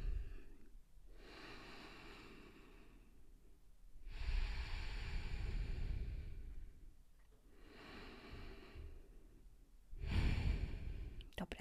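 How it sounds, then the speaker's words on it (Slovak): Slow, deep breaths during a hatha yoga session, long audible inhales and exhales in a steady cycle, close and fairly soft, with no talking. "Nezabúdajte na hlboký nádych a hlboký výdych."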